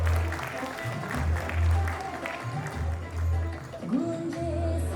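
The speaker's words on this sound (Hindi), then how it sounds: "दुर्गोत्सव ट्रस्ट आदिपुर कच्छ के लिए जोरदार तालियां हो जाए।" Audience applause at a cultural awards ceremony, moderately loud, with a low rhythmic drumbeat pulsing underneath and a sustained tone rising near the end.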